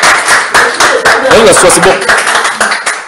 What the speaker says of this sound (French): Applaudissez pour le frère.